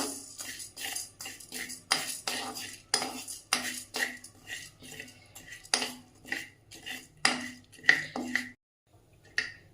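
Urad dal being stirred and fried in oil in a pan, heard as a steady run of scraping spoon-on-metal strokes and clinks, fairly close, ending in a brief pause.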